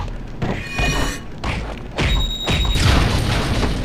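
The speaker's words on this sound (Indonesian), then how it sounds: "Ledakan." Explosions go off in the LEGO Batman video game, a run of loud crashing booms and thuds separated by brief gaps, with debris-like clatter and mechanical tones.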